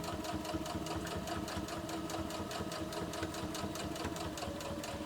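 A sewing machine stitching the edge of a homemade fabric makeup wipe, giving a fast, even, continuous needle rattle that holds steady and moderately quiet throughout.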